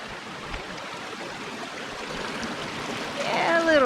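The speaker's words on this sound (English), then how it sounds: "All right, first river crossing." River water rushing steadily during a river crossing on foot on the Lake Waikaremoana Great Walk in New Zealand, a constant nearby flow that swells toward the end with a brief high whoop.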